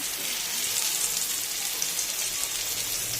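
Crushed garlic and green chillies fry in hot mustard oil in a pan, a constant close sizzle and hiss that stays loud and even, with no voices.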